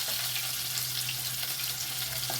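Medium-sized onions drop into a hot pan and fry with an even, continuous hiss over a low steady hum, close and unbroken for a couple of seconds.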